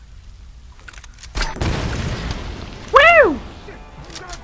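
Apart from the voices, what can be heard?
grenade launcher explosions in video game Tomb Raider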